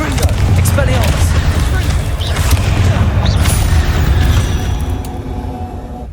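Spells such as Expelliarmus and Confringo cast in combat in Hogwarts Legacy, a dense run of booming blasts and impacts close up and loud, with game sounds layered throughout and a voice calling out spell names.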